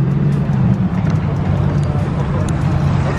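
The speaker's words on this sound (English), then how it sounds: "More and more cars are still pulling up as we speak." Cars pull up at a midnight cruise meet in Los Santos, a video game, making a continuous low engine rumble and road noise throughout.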